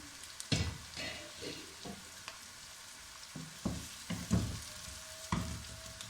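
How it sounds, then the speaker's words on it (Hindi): Onions frying in a pan over a high flame, a soft steady sizzle punctuated by spatula stirring and clinks against the pan, fairly quiet. "प्याज को हम हल्का फ्राई कर लेंगे। फ्लेम को हम तेज कर लेते हैं।"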